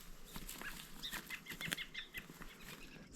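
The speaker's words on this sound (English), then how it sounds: "Just listen to the quiet and to the birds." Outdoor birdsong with scattered chirps and short calls against a soft, steady background, fairly quiet and a little distant.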